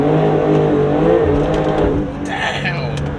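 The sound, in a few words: Porsche 992 Turbo S car accelerating hard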